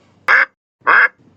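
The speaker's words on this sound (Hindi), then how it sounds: "बत्तख" A duck gives two loud, clear quacks about half a second apart, close by and with nothing else heard around them.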